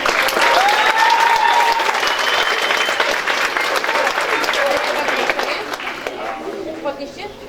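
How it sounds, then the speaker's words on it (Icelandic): Loud, dense applause from a school audience at a lower-secondary annual celebration, greeting the 10th-grade closing act, sustained for several seconds before gradually thinning with a few voices and whistles mixed in. "Gefum þeim gott klapp."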